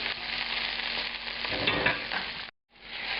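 Tomatoes frying hard in a hot pan for a spaghetti alla puttanesca sauce, a dense, steady sizzle close up with stirring scrapes, cutting out briefly near the end before resuming.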